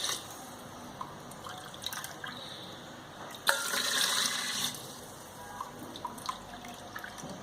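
Water poured from a measuring cup into a rice cooker pot for plain rice, a soft steady trickle and splash rising to a louder gush midway, then fading into faint drips, near and alone.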